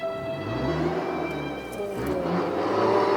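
A car engine revs hard for show on a street near a noodle shop, a loud, steady growl with rising and falling pitch that holds close by for about three seconds.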